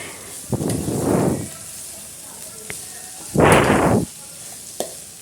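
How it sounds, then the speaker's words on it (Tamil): Spinach sautés in a pan during the cooking of a lentil and greens kootu, with two distinct bursts of stirring and sizzling set apart by quieter pauses and light clinks. "கீரையும் சேர்த்து நல்லா வதக்கிக்கோங்க"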